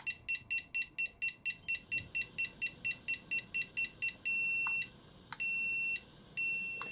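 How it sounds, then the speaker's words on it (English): A handheld RC transmitter for a 1/18 scale FMS Atlas 6x6 off-road truck beeps, first a rapid run of short, evenly spaced high electronic chirps, then a long steady tone as the dual rate reaches its maximum, followed by further long beeps. "When you get that long beep"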